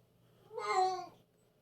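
A single short meow from a cat, faint and close, rising and falling over about half a second against a quiet background.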